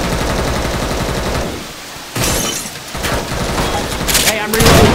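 Rapid rifle fire in a co-op zombie shooter game, loud bursts of gunshots with brief pauses, alongside game effects and a voice speaking.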